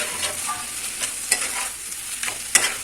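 Cabbage curry filling for paratha being stir-fried dry in a pan, a soft continuous sizzle broken by several sharp scraping strokes of a spatula, close and with no talking.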